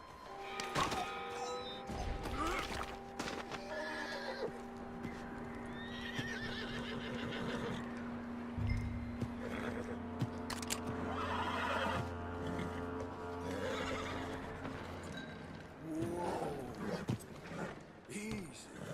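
Horse neighing and whinnying in the video game Red Dead Redemption 2, with clip-clop hooves and game music underneath, alongside loud thuds and character voices talking to calm the animal.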